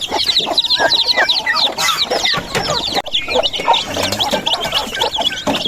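Chickens cluck busily nearby as small chicks peep in dense, overlapping high chirps, and a few low grunts sound underneath on a farm where pigs roam under trees.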